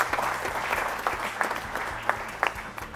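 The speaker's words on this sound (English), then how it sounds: "Let's clap for them, please." An audience claps for a quiz team after its final score is announced at a national quiz competition, a steady patter of many hands at moderate, slightly distant level.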